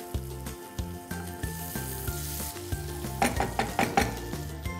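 Chopped onion fries in a pan for pav bhaji, a soft sizzle under a steady low background hum, with a few light clinks of a utensil near the end.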